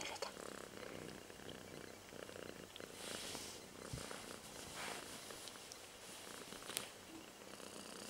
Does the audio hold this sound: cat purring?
yes